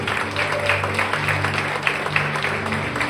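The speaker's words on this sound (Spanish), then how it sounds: "Den un fuerte aplauso al que vive." Congregation at a church service clapping in sustained applause, a dense steady patter of many hands at moderate loudness with faint voices mixed in.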